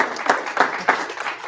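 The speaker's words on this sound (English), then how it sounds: "One more big round of applause." A small group in a black belt martial arts class gives a short round of applause, steady clapping from several people at close range.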